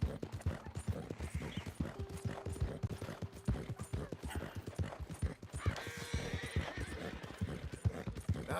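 A horse neighs in a long whinny amid steady clip-clop hoofbeats, with background noise and occasional voices nearby.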